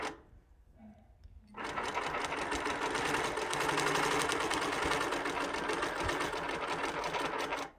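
A sewing machine stitches backwards, starting after a brief quiet moment and then running in a steady, fast mechanical whir close by.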